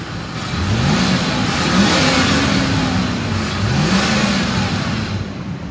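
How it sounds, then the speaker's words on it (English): Close-up engine of a 2009 Ford E-350 XL van with low original miles, revved a couple of times from idle, each smooth rise and fall of pitch clear and loud with no talking over it. "Listen to the motor."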